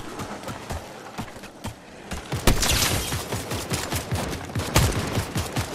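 Rapid bursts of automatic gunfire from a Fortnite match, with an assault rifle in play, crackle close and loud in uneven volleys, with sharp single cracks mixed between the strings of shots.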